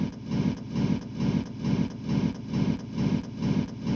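A techno kick in an Ableton plugin, layered with a gated reverb, pulses steadily at about two beats per second, each hit swelling into a dense, noisy wash that cuts off abruptly.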